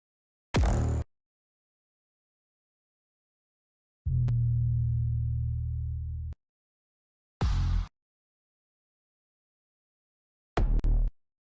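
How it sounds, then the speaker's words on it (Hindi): EDM-style kick drum samples from a big room sample pack, played alone as isolated hits: a short punchy kick, a longer booming sustained kick, then two more sharp kicks separated by silence. "तो यहाँ पर बहुत सारे किक आपको दिया हुआ है।"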